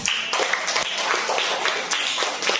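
Classroom applause for a student group after a magnet experiment, a short burst of steady hand clapping from a room of pupils, fairly close and continuous for a couple of seconds.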